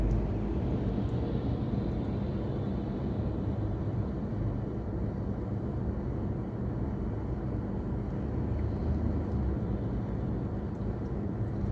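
A Lexus GS450h hybrid car in normal mode drives through town, giving a steady, low, continuous road and engine rumble close inside the cabin, with no talk.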